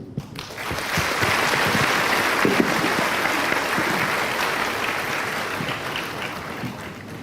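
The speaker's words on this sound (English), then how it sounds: "another round of applause for His Excellency Tun Mahathir" A crowd applauds steadily, a dense wash of clapping that swells quickly and continues evenly for several seconds before easing slightly.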